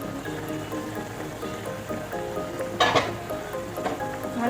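Chili chicken sauce bubbling at a steady boil in a pan, a continuous wet sizzling and popping texture with one louder burst of bubbling partway through, close and alone.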